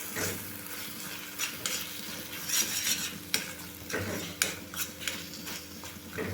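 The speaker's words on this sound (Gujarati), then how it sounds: "મીઠાને ચટણી સાથે મિક્સ કરી લઈશું" Garlic chutney cooking in ghee is stirred with added salt in a pan, giving a close, continuous scraping stir over a soft sizzle, with a few sharper utensil knocks.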